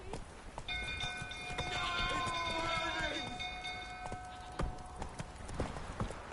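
Geralt's horse Roach gallops in The Witcher 3: Wild Hunt, a steady run of hoofbeats under sustained musical tones, with a brief whinny-like rise around the middle.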